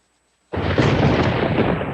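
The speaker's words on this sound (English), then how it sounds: "There's a storm coming." A thunder sound effect in an insurance radio advert bursts in after a brief silence and rolls on as a loud, sustained broadband rumble, heard alone without voices.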